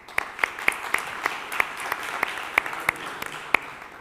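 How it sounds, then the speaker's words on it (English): Sparse, quiet applause from a small ElixirConf conference audience, with distinct individual claps ringing out at an uneven rhythm over a soft background of clapping. "a round of applause for the organizers"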